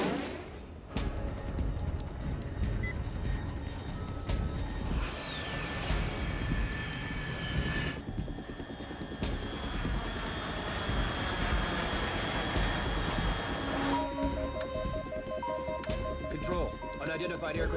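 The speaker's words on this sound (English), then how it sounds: "Unidentified aircraft detected." Aircraft engine in the Metal Gear Solid 3 video game, a loud steady roar passing overhead for the whole stretch, with shifting tones and a rising whine, under a voice speaking throughout.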